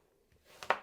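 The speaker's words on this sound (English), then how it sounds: "And then I'll cut them into slices like this" A knife slicing through a halved apple for an upside-down pecan apple pie, heard as a single soft, crisp cut near the end after a quiet stretch.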